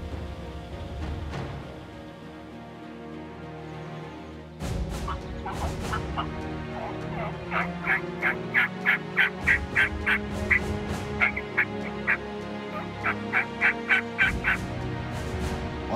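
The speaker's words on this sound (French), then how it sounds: "On a croisé notre premier dindon mâle, un beau tom qui s'en venait." A wild male turkey calls outdoors during a turkey hunt, giving a long run of rapid, repeated gobbling and yelping notes at moderate distance, loud and clear against a quiet rural background.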